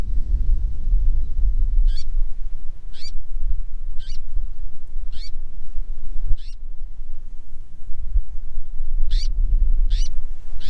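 Birds at a coastal nesting area near Fort Pickens give a series of short, regular high calls, roughly one per second, moderately near, over steady low wind rumble.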